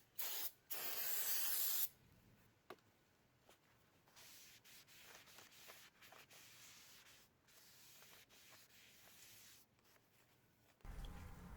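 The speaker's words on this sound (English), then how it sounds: "So you want to get some brake cleaner, spray it, and wipe off the coating" Brake cleaner sprayed onto a new brake rotor for a 2014 Mazda CX-5: two loud, close aerosol bursts, the first short and the second about a second long, then quieter rubbing and wiping strokes before a final short spray.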